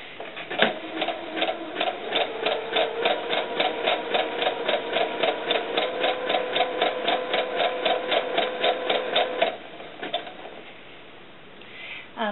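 A sewing machine stitches cotton fabric for a doll sun dress in a fast, even run of mechanical clatter lasting several seconds, then stops, leaving a few faint handling sounds.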